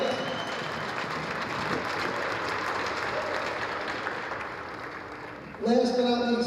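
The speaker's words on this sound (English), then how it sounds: "So we got to give a big round of applause to the NHL" Audience applause fills a hockey arena at a charity police-versus-Coast Guard final, a steady wash of clapping with crowd noise throughout, and a voice speaks briefly over it near the end.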